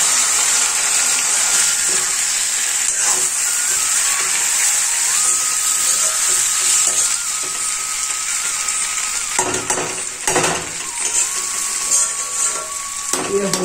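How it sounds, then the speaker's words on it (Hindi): Fenugreek seeds sizzle in hot oil for a tempering over a sabzi of taro leaves, a steady crackling hiss broken by a few clinks and stirring scrapes of a utensil. "ये देखो इसमें मैंने मेथी का छौंका लगाऊंगी"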